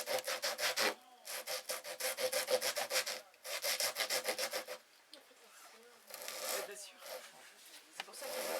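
Sandpaper rubs back and forth by hand in a workshop, making rhythmic scratchy strokes in bursts with short pauses between them, close and fairly soft.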